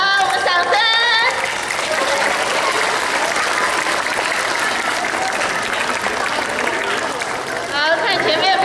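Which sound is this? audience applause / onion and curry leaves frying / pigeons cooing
audience applause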